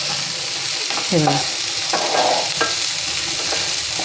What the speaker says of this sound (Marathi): एकसारखं हलवायचं ह्याला. गॅस मी मोठाच ठेवला आहे